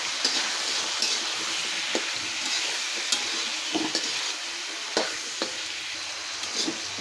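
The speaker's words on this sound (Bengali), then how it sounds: "আমি আলুটা আগে একটু ভাজা নেব।" Bogura potatoes seasoned with salt, turmeric and whole green chilies fry in a pan, with steady close sizzling broken by regular scraping and clinking stirs throughout.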